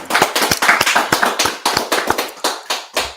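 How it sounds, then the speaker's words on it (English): Rhythmic, fairly close hand clapping with sharp, evenly spaced claps in a steady beat, alone without talk; it sounds like a small group clapping together in time rather than a broad audience wash. "Clap it up."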